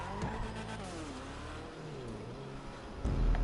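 A car engine in Grand Theft Auto 5 on PS4 runs steadily and close, its pitch wavering as it revs, with tire noise and a louder surge of engine roar near the end.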